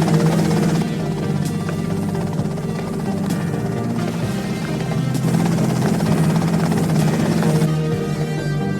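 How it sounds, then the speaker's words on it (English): Helicopter in the video game GTA Vice City, a steady, loud rotor drone with rhythmic blade thumping that holds evenly throughout, with no talk over it. "Okay, that's them in the chopper."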